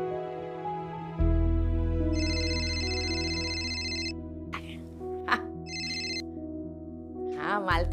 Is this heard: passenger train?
no